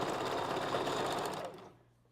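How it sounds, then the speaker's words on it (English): A sewing machine backstitches a wig cap, its motor running in a steady, loud, even whir for about a second and a half before slowing and falling silent. "You want to make sure you backstitch."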